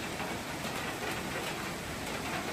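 Rain falling outdoors under an overcast sky, a steady, dense broadband hiss with no distinct drops, continuous and fairly loud throughout.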